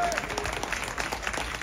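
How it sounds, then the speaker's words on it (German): Applause from the crowd at the CSD Pride event in Munich, a brief dense clatter of clapping heard over outdoor background noise, with a voice faintly mixed in. "Und jetzt nochmal einen tosenden Applaus für diese vier wunderbaren Herrschaften."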